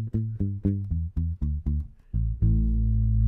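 Barrillon singlecut electric bass played direct with a mellow, deep tone: a run of plucked notes in a steady rhythm, then a final low note left to sustain, heard alone without talk.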